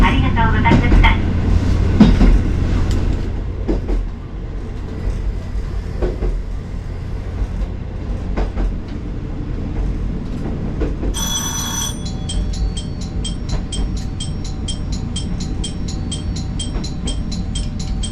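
A JR Hokkaido train rumbles to a stop at Rumoi terminal station, with a low running drone and clicking wheels, then a high electronic chime pattern ringing out after arrival.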